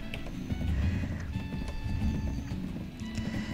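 Horse in the video game Black Desert, rhythmic clip-clop of hooves at a steady trot with an occasional whinny, moderately close over a soft ambient bed, no talking.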